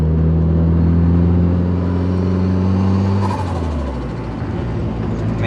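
A turbocharged car engine holds a steady, loud drone with strong low harmonics, then shifts and drops off partway through into a rougher, whooshing note, close by with no talk over it.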